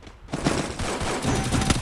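Rapid bursts of MP40 gunfire in Free Fire crackle loudly and continuously after a brief quiet start, with several sharper shots standing out in the dense barrage.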